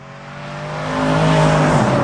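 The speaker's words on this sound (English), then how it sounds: "The sound of the engine, somebody who hears that has to know, wow, that was an AMG." A Mercedes-AMG car engine revs up and grows louder over two seconds, a rising rasping growl that swells to full volume as the car accelerates close by.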